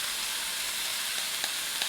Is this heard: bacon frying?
yes